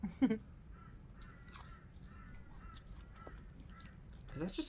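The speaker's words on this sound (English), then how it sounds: "Also, the crows are crowing." Crows call outside in a run of rhythmic, distant caws over low background noise, with brief voices at the start and end.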